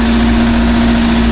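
A rough-running, smoking vehicle engine idles with a steady, loud, close hum and a constant droning buzz, with no other sounds.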